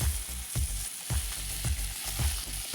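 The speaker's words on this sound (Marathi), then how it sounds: "कांदा टाकून पूर्ण मिक्स करून घ्यायचं. तेलामध्ये पूर्ण परतून घ्यायचं." Chopped onion sizzles and crackles as it fries in hot oil for kanda poha, a steady close sizzle with a soft stirring rhythm roughly every half second.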